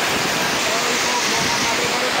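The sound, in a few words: heavy downpour of rain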